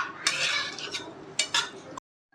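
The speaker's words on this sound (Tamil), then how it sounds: "நம்ம சேர்த்த தேங்காவை இந்த சூட்லேயே நல்லா ஒரு கிளறி கிளறி விட்டலாம்" Grated coconut is stirred in a hot pan for mutton curry. Repeated close scraping and clinking of a utensil against the pan is heard, then the sound cuts off abruptly.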